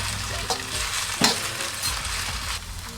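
Precooked roast pork is reheated by stir-frying in a hot pan, a close continuous sizzle broken by a few sharp scraping stirs, no talk.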